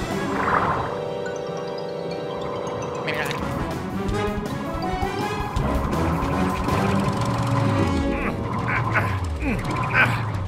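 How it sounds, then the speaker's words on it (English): A grinding, ratcheting mechanical clatter of a cartoon submarine propeller jammed with gunk stutters and churns under a busy cartoonish soundtrack with tonal sound effects, loud and close. "Sounds like some gunk got in the propeller."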